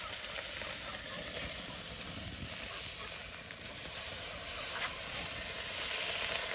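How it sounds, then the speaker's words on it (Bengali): Pangas fish fries in hot oil in a heated wok (karai), a continuous close sizzling hiss at moderate level that swells slightly toward the end. "আর এতেই যেন মাছ আপনার ভাজা হয়ে যাচ্ছে"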